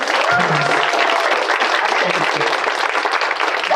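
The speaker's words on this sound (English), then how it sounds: "a round of applause" Loud, dense applause from an audience fills the room throughout, with a voice briefly audible under the clapping.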